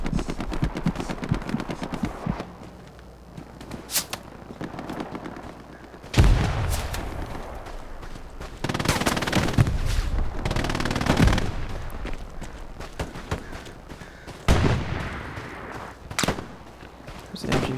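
Gunfire in the Hell Let Loose video game, with bursts of automatic fire and loud individual shots cracking close and far in irregular volleys, some heavier booms breaking in, continuous and dense throughout.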